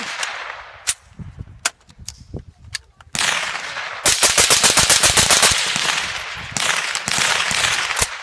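Rapid gunfire from a firearm fed by an Amend 2 magazine left loaded for a year, scattered single sharp shots at first, then a loud, close stretch of fast repeated rounds.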